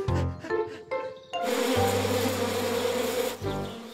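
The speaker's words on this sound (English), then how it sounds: "A big bear's not afraid of little bees, Bananas." Cartoon bees buzz loudly and steadily around a beehive, a constant swarming drone that swells midway and fills most of the clip, with short musical notes at the start.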